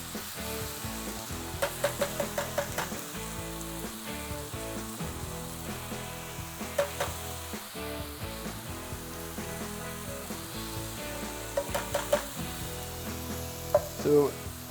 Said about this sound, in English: And I'm adding some diced tomato here.